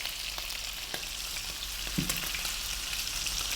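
Chopped onion, about a cup, fries in a hot pan after browned beef for a curry, a steady close hiss with scattered small pops and crackles throughout.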